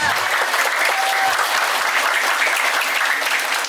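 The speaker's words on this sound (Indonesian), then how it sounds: "Tepuk tangan buat Jos." Campers at a one-day English and character camp in a Bekasi villa give a loud burst of hand clapping, sustained and even throughout the short stretch.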